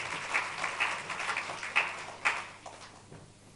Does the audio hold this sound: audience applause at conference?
yes